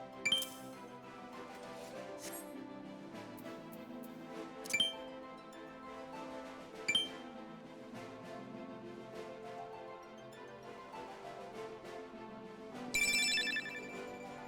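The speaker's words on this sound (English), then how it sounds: "Why'd you beep, phone?" A phone gives a few brief bright beeps or chimes, spaced apart and a little louder near the end, over steady background music during a casual Final Fantasy XIV painting stream.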